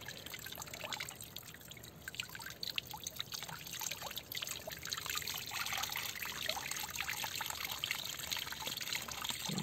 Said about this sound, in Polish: Woda sobie leci.